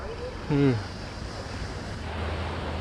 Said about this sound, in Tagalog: See the waves here.